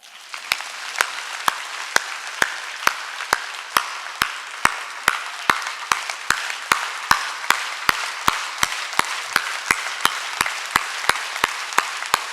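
Steady rhythmic clapping by a church congregation during a Sunday worship service, sharp evenly spaced claps about twice per second, loud and close, continuing without voices.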